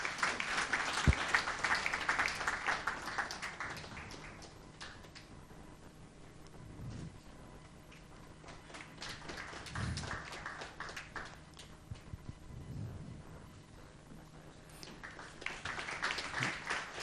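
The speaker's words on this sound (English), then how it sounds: "Can we have a round of applause for the session audience, please?" A conference session audience applauds in waves, the clapping swelling, fading and swelling again, moderately distant and steady across the hall with no speech over it.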